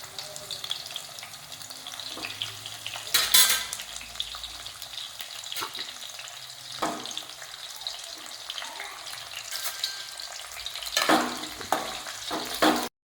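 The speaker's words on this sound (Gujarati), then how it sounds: "પત્તરવેલી ફ્રાય આપણે ચાલુ થઈ ગઈ છે બનાવવાનું." Patra, rolls of colocasia leaves, frying in hot oil with mustard seeds: a steady close sizzle with crackles, plus occasional sharp clinks and scrapes of stirring.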